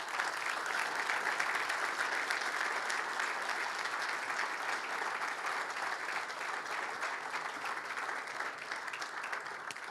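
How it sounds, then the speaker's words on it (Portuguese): Long, even applause from a large audience at a football club day event, dense and continuous for about ten seconds with no speech on top. "O Paulo Santos, para quem peço uma salva de palmas."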